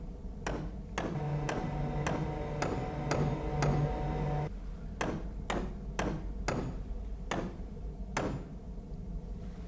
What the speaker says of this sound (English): Sounds like somebody's down on deck bashing with a hammer.